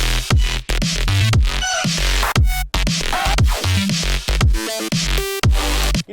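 Hi-tech EDM arp bass with a sidechained sub: a loud, rapid pulsing synth pattern over deep sub hits that duck rhythmically, with bright plucky stabs and short gaps between phrases.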